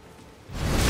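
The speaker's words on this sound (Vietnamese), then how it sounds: "Mưa luôn à." Rain in the video game Elden Ring, starting as a faint hiss and swelling into a loud, dense wash of falling rain partway through, with no talk.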